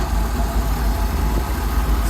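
A Rolls Royce Silver Shadow engine idles around 800 RPM with a steady, close, low rumble and an even throbbing pulse throughout, and no one speaks over it.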